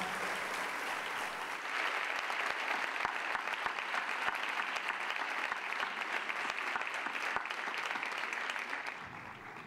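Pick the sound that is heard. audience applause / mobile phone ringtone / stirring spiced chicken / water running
audience applause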